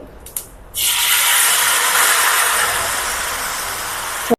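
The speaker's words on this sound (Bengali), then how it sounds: "এবার ঝোলটা ঢেলে দেবো" Hilsa fish curry broth hits hot mustard oil tempered with five-spice, setting off a sudden loud, steady sizzling rush. It lasts several seconds and then cuts off abruptly, with no talking.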